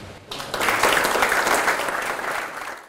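A university audience greets the Venezuelan ambassador with a burst of applause that swells quickly after a brief pause, holds loud and dense for about two seconds, then begins to taper.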